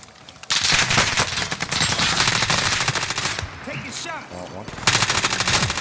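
Machine-gun bursts in a multiplayer shooter game, loud rapid rattling fire that starts abruptly, runs for several seconds, dips while voices call out, then resumes with another close, sharp burst.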